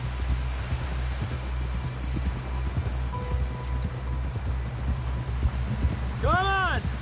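A horse galloping in a Western video game, a quick, even clip-clop of hooves over a low rumble of steady motion, fairly close and loud, while voices talk over it.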